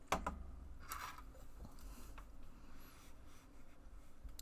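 A normal curve being sketched by hand, a faint scratch of pen or pencil on paper with a few short strokes and light taps. It plays close and quiet over a low background hum.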